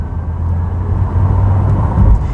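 Audi e-tron GT electric car pulling hard at full throttle, a steady low drive rumble with road noise that swells slightly toward the end, heard from inside the cabin with no talk.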